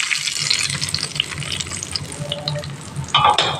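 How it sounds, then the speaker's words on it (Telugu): Mustard seeds, cumin, urad dal and curry leaves drop into hot oil for tempering, giving a steady close sizzle and crackle throughout with a brief louder burst near the end. "పోపు అయితే వేసుకుందాం."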